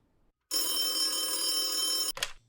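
A telephone bell rings in one long, loud, steady electronic trill, cut off abruptly by a short click as an answering machine picks up, with no talk over it.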